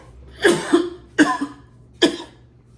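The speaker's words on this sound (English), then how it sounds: "Let me clear my throat." Three rough throat-clearing coughs from one person nearby, evenly spaced with short pauses between them.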